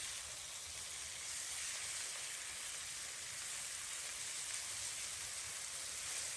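Wild boar frying in fat with garlic, tomato and mushrooms in a back garden gives off a steady, soft hiss and sizzle that stays even and fairly faint throughout.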